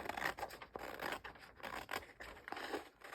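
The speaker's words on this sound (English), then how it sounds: "And then I'm just going to take my scissors." Scissors trim a paper envelope in a quiet room, a faint run of crisp snipping and rustling cuts close by, with no talking.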